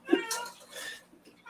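A pet cat meows in short, soft calls nearby after bringing over a plastic lid. A person's voice mixes faintly in the background.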